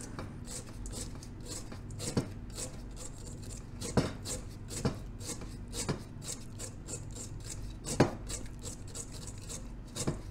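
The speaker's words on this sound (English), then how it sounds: "Now we're going to scrape the crystals down off" Scraping pure silver crystals, about 1.5 kilos, off the side of a bowl: a steady quiet rasping rub with occasional sharper clicks and scratches, continuous and close, no talk.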